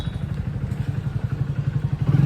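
A motorcycle engine idles with a steady low, rapid thumping pulse, close and fairly loud, building slightly toward the end as it starts to pull away.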